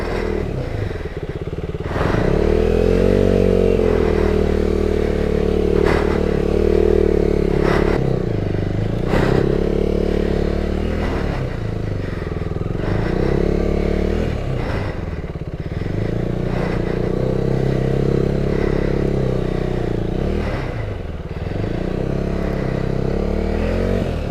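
A KTM Duke 390 rides off road near Mole Creek, Tasmania, its engine droning steadily and close with shifting revs, while clattering and scraping from the rough track punctuate the run.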